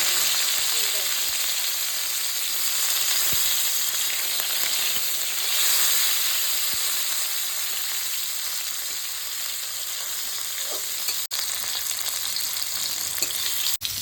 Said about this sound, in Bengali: উচ্ছেগুলো ভাজা হয়ে গেল